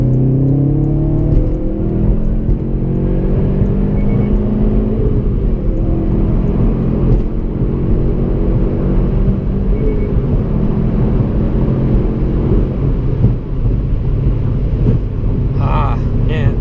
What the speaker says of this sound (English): I'm going to do a third gear pull here for you guys.